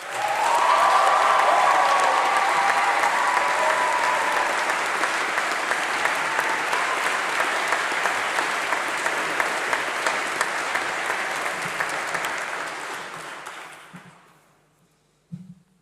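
Audience applause at a graduation congregation ceremony, a long steady burst of many hands clapping close and loud, holding evenly for about twelve seconds before fading out, followed by a brief thump.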